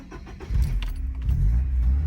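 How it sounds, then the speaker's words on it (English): A Volkswagen's 2.5-liter four-cylinder engine cranks and fires. A short starter whir gives way to a close, deep running rumble that holds steady to the end. "All right, we're gonna crank her."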